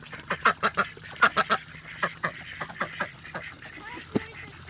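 Farm ducks quacking nearby in rapid loud clusters of honking calls, separated by short pauses and a few scattered single quacks, over a quiet background hum.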